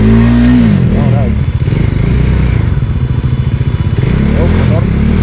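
Motorcycle engine running on a busy street in Valenzuela City, a steady close rumble with a brief rev near the start, while people talk over it.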